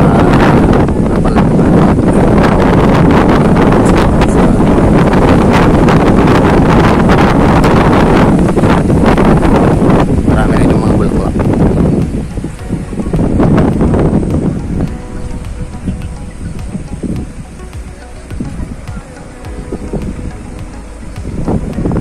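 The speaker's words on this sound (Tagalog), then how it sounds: "Sobrang lakas ng hangin." Strong wind buffets the microphone on a cold, foggy farm in Davao, roaring loudly and nearly constantly before easing into gusty rushes.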